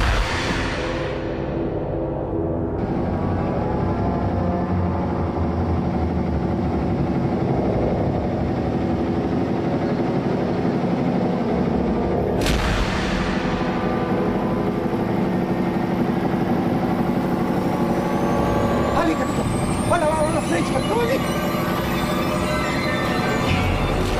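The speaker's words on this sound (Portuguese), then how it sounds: "desliga o motor!" A vehicle engine runs steadily and loudly at a close distance for the whole stretch, with a rough low drone and a faint rising whine toward the end.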